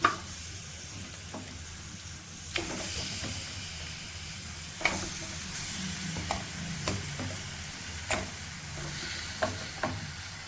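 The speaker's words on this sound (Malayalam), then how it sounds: "ഒന്ന് ഉള്ളിയുമായിട്ടൊന്ന് ചൂടാക്കിയതിന് ശേഷം നമുക്കിതിലോട്ട് ചിക്കൻ ഇട്ട് കൊടുക്കാം" Chicken frying in a hot pan with onions and spices for a chicken curry, giving a steady close sizzle with a scatter of sharp spoon scrapes and knocks, no voices.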